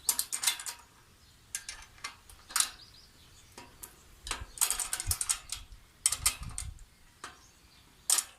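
Wrench working bolts while a log splitter is assembled, 13 and 14 sizes with the ring end: irregular ratcheting clicks and metallic ticks in short bursts, close and moderately quiet, with pauses between, no talking.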